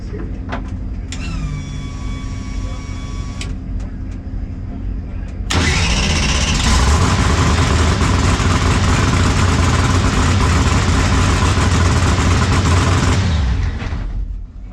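A Murder Nova drag race car's engine cranks and fires up in the pits, then settles into a loud, steady, rumbling idle that cuts off near the end; a whirring starter-like tone and background voices come before it.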